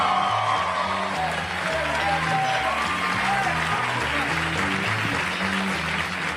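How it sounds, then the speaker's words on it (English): Stand-up comedy club crowd applauding and cheering as comedian Pat McGann takes the stage, a loud sustained wash of clapping with whoops over a pulsing music bed. "rousing round of applause for Mr. Pat McGann"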